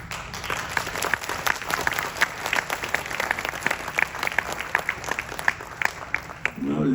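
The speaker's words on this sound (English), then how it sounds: "Now ladies don't clap like that" An audience at a spiritual discourse claps in a steady, scattered patter of many hands, moderately loud and continuous throughout.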